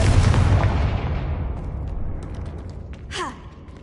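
A Confringo spell blast in the game Hogwarts Legacy, a heavy explosive boom that starts loud and decays into a rumbling tail, followed by a short whooshing effect.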